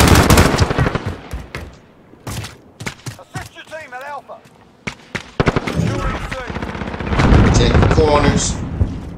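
Rapid bursts of P90 submachine gun fire in a first-person shooter, sharp repeated cracks in clusters separated by brief pauses, with someone talking over the shooting.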